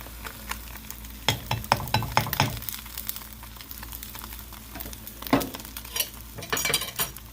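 A one-egg cheese omelet frying in a pan over the fire, with steady sizzling broken by clinks and scrapes of a utensil stirring and pushing against the pan.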